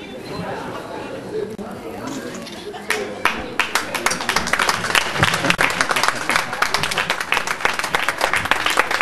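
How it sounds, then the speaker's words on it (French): Audience applause at a ceremony, a dense clatter of many hands swelling from murmuring crowd chatter into sustained loud clapping that carries through to the end. "Ça, faut pas applaudir, c'est facile à faire."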